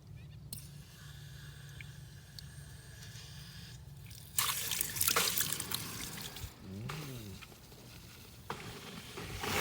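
Water runs through the bleeder of a Toro 252 irrigation valve during an in-ground test, a steady trickling and splashing that swells louder midway and keeps going to the end, with no voices.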